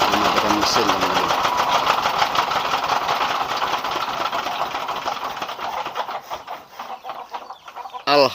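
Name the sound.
diesel engine of rice milling machine shutting down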